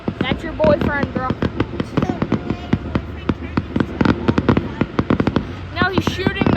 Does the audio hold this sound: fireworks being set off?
yes